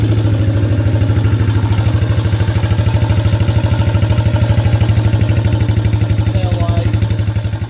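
A Suzuki LT125 Quadrunner ATV's four-stroke engine idles close and loud with a steady, even putter that holds throughout and dips slightly at the very end.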